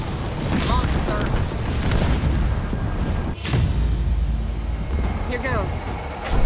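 Gunfire and explosions in the Halo Wars 2 video game, with a steady, heavy roar of battle, booming blasts and a brief dip in the middle. Voices talk over the din.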